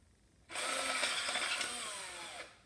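A power drill bores a hole through a quarter coin in one continuous whining burst of about two seconds, starting abruptly and fading at the end, close and fairly loud with no voices.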